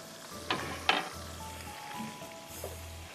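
Prawns frying in a pan with normal oil and chili oil for Schezwan prawns: a soft, steady sizzle up close, broken by a couple of sharp utensil clinks, over a low background hum.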